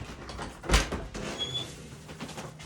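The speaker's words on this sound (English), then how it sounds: "let me open the door." An interior door is opened in a dark house, giving a single soft thump and latch click followed by a faint squeak, then quiet room tone.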